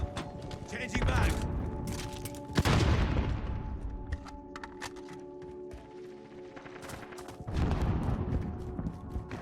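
A Call of Duty Modern Warfare firefight: a grenade blast booms mid-scene amid bursts of gunfire and scattered shots, with battle clutter continuing and another heavy boom near the end, under muted in-game voices.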